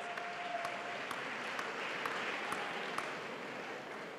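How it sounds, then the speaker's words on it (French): A congregation at an evangelistic baptism crusade in Yaoundé claps steadily. The applause is dense and sustained, with a few sharper individual claps standing out throughout. "Clap for the Lord Jesus Christ."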